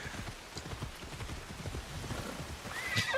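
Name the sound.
horse galloping and neighing in video game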